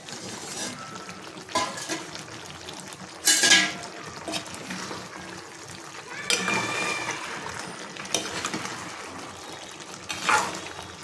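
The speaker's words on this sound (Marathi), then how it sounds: "याच्यामध्ये आता आपल्याला गरम पाणी टाकून घ्यायचं आहे गार पाणी नाही टाकायचे गरम पाणी टाकायचं" Hot water is poured into Agari-style mutton mundi masala cooking in a pot, with splashing and sizzling bursts, metal clinks of the pan and utensils, and a few louder surges of liquid spread across the stretch.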